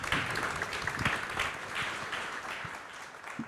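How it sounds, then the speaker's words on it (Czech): Audience applause for guests at the close of a Prague public discussion on the Modřany sugar factory, a moderate, fairly steady patter of many hands clapping for a few seconds, heard at middle distance without speech. "poprosím vás o potlesk pro naše hosty"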